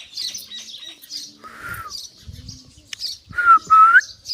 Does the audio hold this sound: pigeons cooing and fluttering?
yes